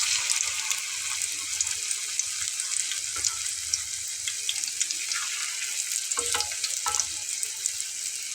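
Potato chops (aloo chop) frying in hot oil over a medium flame, a steady close sizzle and crackle with a few sharper pops and spatters throughout.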